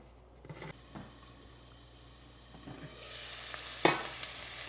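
Green garlic dropped into hot oil in a home kitchen pan gives a soft frying sizzle that swells toward the end, with a few utensil clinks and scrapes along the way.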